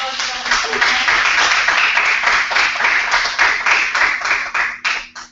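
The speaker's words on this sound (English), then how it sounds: "Let's have a round of applause." A composition studio class applauds at the end of an online masterclass, giving a sustained patter of many hands clapping together, fairly loud and steady before tapering off at the close.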